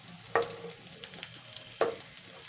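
Leftover cooked rice hits a hot pan in two sharp bursts of sizzle, each fading quickly into a low, steady frying hiss with no voices.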